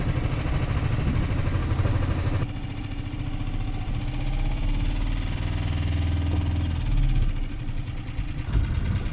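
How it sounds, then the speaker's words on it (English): A sailboat's engine runs steadily at idle-like speed while motoring out of a bay, a continuous low rumble with faint vibration filling the whole stretch without pause. "I think I could probably turn that engine off."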